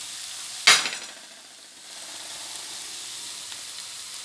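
Chilli powder and ground spices frying in a pan, opening with a sharp hiss as they hit the hot oil, then fading to a soft, steady sizzle with faint stirring.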